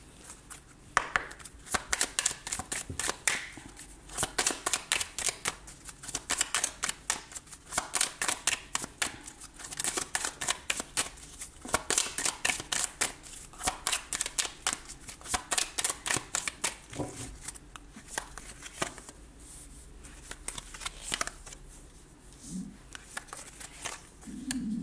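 Tarot cards shuffled by hand for a new card draw, a long run of quick, crisp riffling flutters in bursts, close and fairly loud, with brief pauses between runs and no speech.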